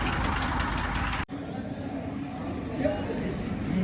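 A vehicle engine idles with a steady low rumble that runs underneath ongoing talk.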